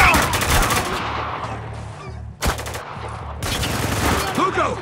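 Rapid automatic gunfire from a Spec Ops: The Line firefight crackles loud and dense, in sustained bursts with a brief lull midway, then heavy shooting again.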